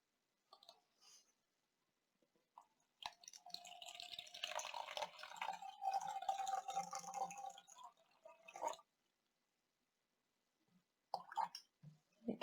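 Clear water is poured into a container of colored water, a gurgling trickle of a few seconds with small splashes, close and fairly quiet, framed by soft clicks and handling noises.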